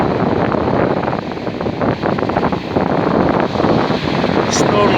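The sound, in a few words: sea waves crashing on the shore in strong wind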